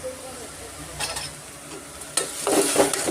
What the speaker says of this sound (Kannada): ಮೀಡಿಯಮ್ ಫ್ಲೇಮಲ್ಲೇ ನಾವು ಚೆನ್ನಾಗಿ ಫ್ರೈ ಮಾಡ್ಕೊಳ್ಳೋಣ